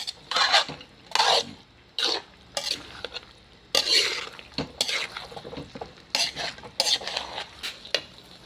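A spoon scrapes and clatters through a vegetable mix cooking in a pan, in irregular bursts of stirring with a soft sizzle between strokes, close and clear with no talking.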